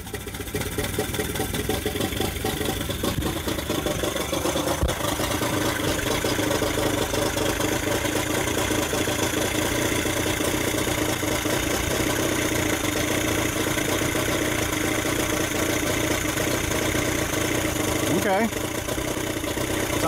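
A Johnson 40 HP outboard motor idles steadily and loudly up close, a continuous running drone lasting throughout, with someone speaking over it.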